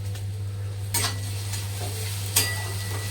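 Broken pieces of bajra bhakri are stirred and roasted in a pan, with a few distinct spatula scrapes over a quiet sizzle and a steady low electrical hum, close and without talk.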